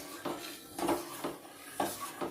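A spoon stirring thick fruit custard in a pan on the stove, soft rhythmic scrapes against the metal repeating about twice a second, faint and close with no talking.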